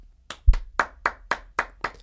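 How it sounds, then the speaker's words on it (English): Seven sharp hand claps at an even, unhurried pace, close and distinct with short silences between them, and a low thump near the second clap. "How do you not clap your hands and say thank you?"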